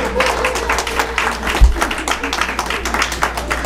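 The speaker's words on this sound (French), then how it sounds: "je voudrais qu'on applaudisse le doyen Ben Bakayoko." Audience applause at a political campaign event, a steady wash of clapping from a crowd sustained throughout, fairly loud with a low hum underneath.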